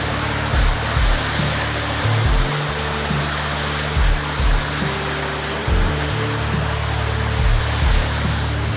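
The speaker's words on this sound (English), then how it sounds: "So this is not a river, it wasn't here yesterday, so it's running all the way through here." Floodwater runs through a street in Texas, a loud, steady broadband rush like a fast stream, with low thuds scattered throughout and no voices.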